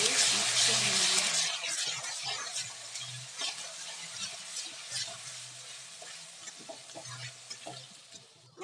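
Garlic and ginger paste stirred in a hot frying pan, a steady close sizzle with scraping spoon strokes, loudest at first and easing off, with brief voice sounds in the background.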